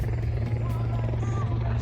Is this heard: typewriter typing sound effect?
no